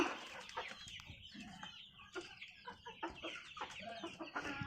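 A group of chickens, hens and a rooster with newly hatched chicks, clucking and cackling close by, busy overlapping calls in quick irregular bursts with no talking.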